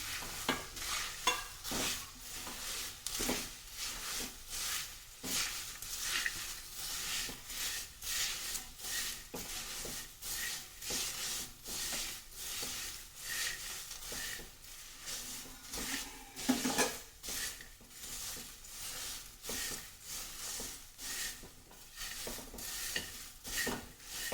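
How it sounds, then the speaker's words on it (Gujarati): Peanuts and pieces of leftover roti fry in a pan for a savoury chevdo, with a soft background sizzle under rhythmic, repeated scraping strokes of a spoon stirring the mixture, fairly quiet and close. "સિંગદાણાનો આ રીતે થોડો કલર ચેન્જ થાય ત્યાં સુધી જ આપણે તળવાના છે"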